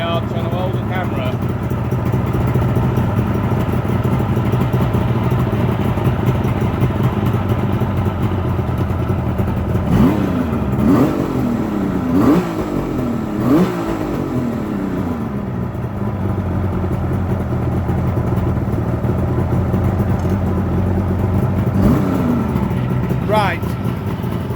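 A Suzuki GT750 two-stroke motorcycle engine idles loudly and close during carburettor balancing, with several quick revs rising and falling in the middle section and another near the end, while a person talks over it.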